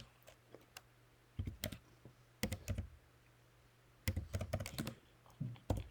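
Typing on a computer keyboard while checking spreadsheet numbers, quiet bursts of rapid key clicks separated by pauses over a low steady hum.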